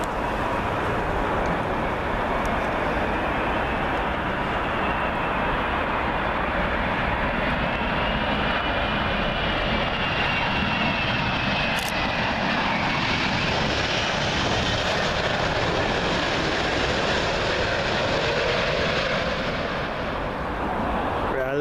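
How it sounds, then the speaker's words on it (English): An Etihad Airways Airbus A380 arriving at Heathrow Airport, a loud, steady engine roar and rushing whine that holds for over twenty seconds at close range, with no voices over it. "Next up we got another A380, this time Etihad Airways. This one arriving in from Abu Dhabi."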